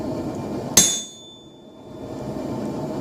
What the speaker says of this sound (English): I do most of this work right on the anvil instead of my set blocking vise because I get better hits